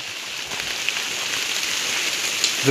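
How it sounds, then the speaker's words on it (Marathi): Steady rain hissing down on a surface in the Konkan countryside, a dense, even patter of drops filling the whole clip without pause. "इकडे पाऊस भरपूरच हा."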